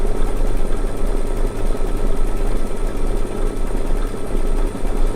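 A sewing machine stitches an outline stitch around a large flower design, making a loud, fast, steady mechanical chatter that runs without pause throughout.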